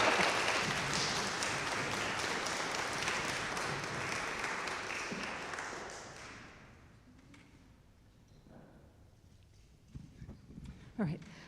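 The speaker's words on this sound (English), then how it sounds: "Can everyone give the bishops a round of applause?" An audience applauds the bishops at a church Q&A forum, a dense sustained clapping that gradually fades out after about six seconds, followed by quiet room noise and a few faint thumps.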